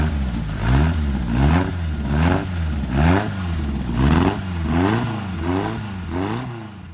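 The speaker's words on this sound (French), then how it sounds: "Voilà le moteur en route." A car engine runs close by, revving in repeated rising-and-falling surges about once per second, loud and steady with no talking.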